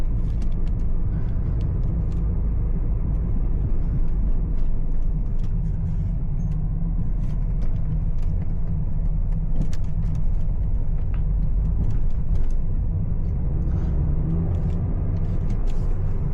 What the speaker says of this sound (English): See the traffic of Riyadh.